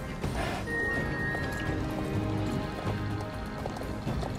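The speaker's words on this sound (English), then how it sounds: "right now I'm riding one of the new horses out." Hooves clip-clop in quick galloping beats as a horse runs in the Star Stable video game, with a brief whinny near the start and a few tonal game sounds over a steady background.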